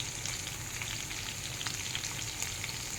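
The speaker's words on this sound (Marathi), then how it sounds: "जिरे मोहरी मिरची एकत्र तेलामध्ये टाकलेलं येतं. तर हे आपल्याला फ्राय करून घ्यायचे" Cumin, mustard seeds and chilies fry in hot oil, producing an even, busy sizzle with fine popping crackles, close up and unbroken, with no voices.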